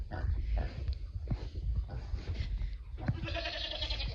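Goats bleat several times nearby amid farmyard bustle with horses and pigs, their wavering cries rising over a low, rumbling background; one loud bleat stands out near the end.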